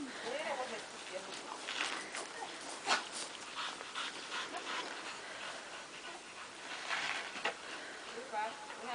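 A dog whimpers and pants in short bursts during an outdoor training exercise, with people talking over it most of the time.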